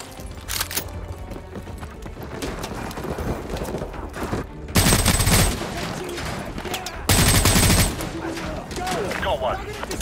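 Sniper and rifle gunfire crackles through a firefight in Modern Warfare 2 Remastered, with two loud bursts standing out over ongoing shots and battle noise.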